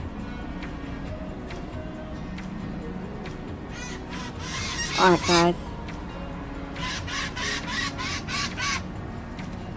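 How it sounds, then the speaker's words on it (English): Crows cawing outside near a house's front door: a loud cluster of harsh caws in the middle and a later run of quicker repeated calls, over faint background hum, with a person talking briefly. "These birds."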